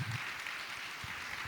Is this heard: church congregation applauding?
yes